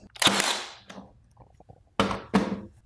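Brad nailer fires with sharp, loud pneumatic cracks, one shot followed by quieter clicks and handling noises, then two more rapid bursts close by.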